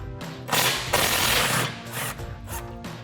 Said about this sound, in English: we have a 13 mil bolt or a nut right here we're going to remove